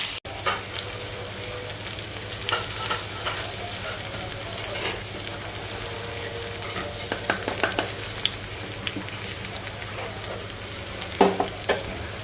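Steady sizzling of food frying in a pan, with occasional stirring scrapes and light clinks of a utensil throughout, no talking.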